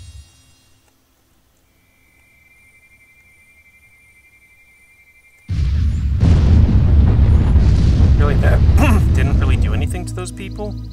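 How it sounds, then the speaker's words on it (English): Explosions in the video game Black & White as meteors strike, a sudden loud rumbling blast that swells after a quiet stretch and keeps roaring for several seconds before fading slightly. "Explosion."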